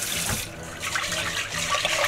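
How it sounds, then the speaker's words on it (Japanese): Rice grains being rinsed in warm water in a pot or bowl, a steady close sloshing and splashing with running-water wash, no talking. "だから最初はさっと湯水で酸化した、ものをですね洗い流していきます"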